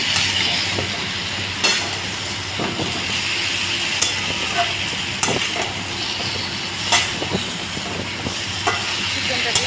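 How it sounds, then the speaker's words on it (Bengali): Chicken pieces stirred into spiced masala in a pan, giving a steady hiss and sizzle with occasional sharp scrapes of a spoon against the pan throughout. "চিকেনটা দিয়ে আমি নাড়াচাড়া করে নিলাম"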